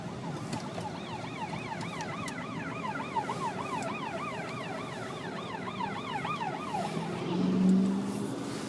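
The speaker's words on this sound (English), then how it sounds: "that was an ambulance going by" An ambulance siren wails past at a distance, its rising and falling sweep repeating steadily for several seconds over a constant low background rumble, with no voices.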